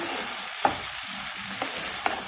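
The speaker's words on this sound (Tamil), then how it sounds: "சேர்த்து மெதுவாக இதை கலந்து விட்டுறலாம்." Spoon scraping and stirring fried rava idli pieces into a sizzling masala in a pan, a few soft strokes over a steady close hiss of frying.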